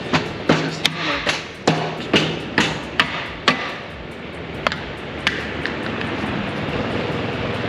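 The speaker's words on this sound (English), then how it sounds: "what we'll do now is just hammer." Subframe bushings on a BMW M240i are hammered out with a series of sharp metallic hammer strikes, several in quick succession, then spaced farther apart and fading against a steady background hum.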